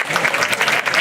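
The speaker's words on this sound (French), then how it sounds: "On les applaudit bien fort" An audience at a university diploma ceremony at IUT Montpellier Sète claps loudly for chemistry graduates in a dense, continuous round of applause.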